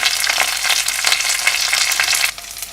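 Chana dal frying in hot oil for a spicy bottle gourd chutney, a close, bright crackling sizzle that pulses with stirring and drops a little in level near the end.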